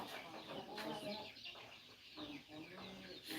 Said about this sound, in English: we're giving chickens food.